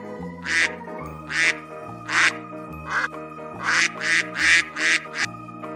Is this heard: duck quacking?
yes